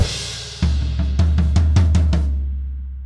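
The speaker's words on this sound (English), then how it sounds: "So you want to go from piano through to loud for this crescendo on the floor tom" A drum bar of rapid strokes on the floor tom starts soft and builds in loudness. A run of about six or seven distinct hits rises to a peak, followed by a ringing decay.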